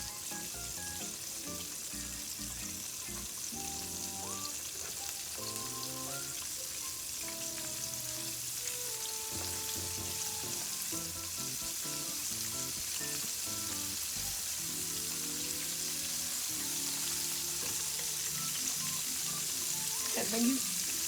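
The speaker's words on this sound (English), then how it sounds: "you just pop them in the hot grease like you would if you were frying chicken" Egg-dipped oyster mushrooms frying in hot grease, a steady close sizzle and crackle throughout, with faint clinks and movement, and no voices.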